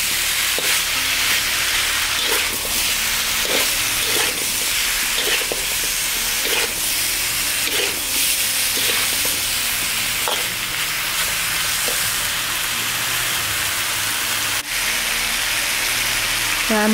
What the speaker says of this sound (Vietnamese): Mình để mức lửa trung bình rồi mình xào trong khoảng thời gian là 4 phút.